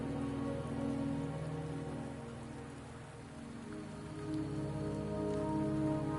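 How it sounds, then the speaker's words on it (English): Steady rain falling on surfaces in the Wuthering Waves video game, a soft, continuous patter with a low rumble beneath and no talk. "Don't worry, the rain won't last much longer."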